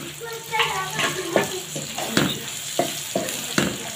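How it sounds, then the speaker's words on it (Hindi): Softened onions and dry spices for a khashkhash masala curry sizzle in a pan, with a spoon scraping and stirring in several distinct strokes over the steady frying hiss. "चलें अब इसको अच्छे से भून लेंगे।"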